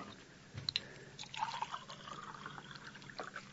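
Water is poured into a glass for pills in a radio drama. A soft, close splashing trickle runs continuously, with light clinks and rustling over a low background hiss.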